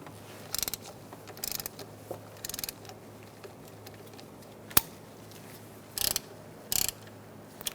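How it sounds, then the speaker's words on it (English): A ratchet wrench with a 12mm socket loosening a bolt on a 2014-2019 Kia Soul with a 1.6L engine gives short bursts of rapid clicking, plus one sharp metallic tick, close and clear over a faint hum. "Using a 12mm socket, we're going to loosen this bolt"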